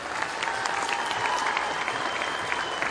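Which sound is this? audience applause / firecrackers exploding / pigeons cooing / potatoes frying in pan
audience applause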